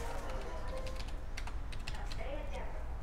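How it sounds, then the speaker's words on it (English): Password being typed on a computer keyboard to log into a hosting server: a quick run of soft, close key taps over a low background hum, with some voice-like sound mixed in. "So you then want to type your password"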